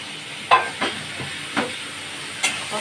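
A spoon stirs coriander, cumin, Kashmiri chilli and turmeric powders being sautéed with a little water in a pan for bhetki fish curry, giving a few distinct scraping strokes over a soft, steady sizzle.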